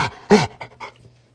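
Dog panting in short, quick breathy bursts, three or four close puffs fading toward the end, heard alone.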